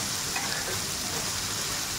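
Green peas and tomato sautéing in hot oil, a dense, even, close-up sizzle that crackles steadily throughout with no talking.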